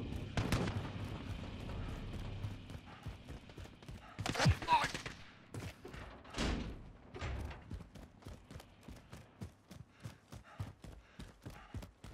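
Enemy gunfire in Call of Duty Warzone sounds as sharp, repeated cracks and short bursts, some near and loud and others fainter, scattered across the stretch.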